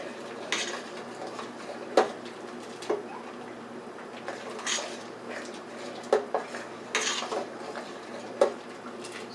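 A spoon stirring beef and bean soup in a pot, with scattered clinks and knocks against the metal rim at an uneven pace over a quiet kitchen background, no speech.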